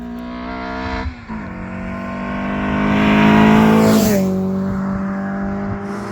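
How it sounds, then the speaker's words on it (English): Peugeot 309 GTi engine revs hard in a raw, harmonic-rich drone, dipping briefly near one second, then climbing to a loud peak before easing back down, heard close with no talk. "Oh my God, a raw engine and nothing else."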